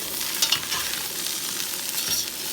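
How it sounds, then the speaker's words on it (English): Potatoes and vegetables with rosemary and garlic are stirred in a camp skillet, a close scraping stir over a steady hot sizzle. "All right, so we'll get this in, and give it another stir."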